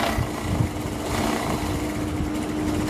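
A sewing machine runs a straight stitch on dress fabric with a continuous close-up motor whir. The steady hum holds without a break for the whole stretch.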